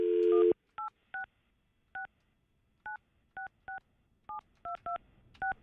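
Telephone keypad dialing a hotline number: a brief opening tone, then a dozen short, evenly spaced DTMF beeps pressed one after another in an uneven rhythm, clear and alone.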